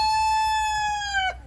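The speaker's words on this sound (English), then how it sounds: "And you hear roosters crowing" A single rooster crows nearby on a homestead, one long drawn-out call that drops off sharply at the end.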